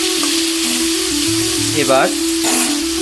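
Chana masala with potatoes sizzling in a pan on a gas flame while a spatula stirs it, a steady close frying hiss with a few scraping strokes as a voice speaks briefly.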